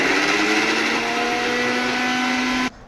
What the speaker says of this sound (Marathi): सर्वात आधी खोबरं वाटून घ्यायचं।